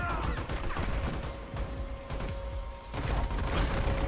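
Rapid gunfire from the Army of Two video game, a dense run of close, loud shots and mechanical clatter that barely lets up, with voices faintly underneath.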